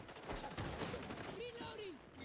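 A shotgun and other gunfire in Fallout 76 crack in quick bursts amid a busy game battle, with a voice briefly heard over the shots.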